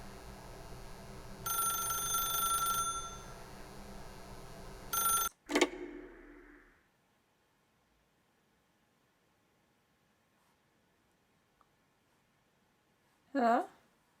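A telephone rings in the Stanley Parable video game: a short burst of shrill ringing stands out near the end after a long stretch of silence, following earlier noisy game sound and a voice.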